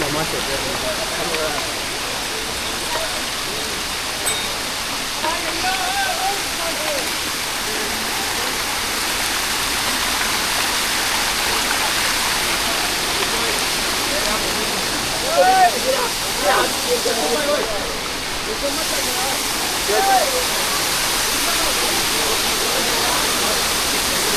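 Steady rushing water fills the scene from start to finish on the Gaurikund to Kedarnath trek, a broad constant wash like a nearby stream, with voices talking faintly over it.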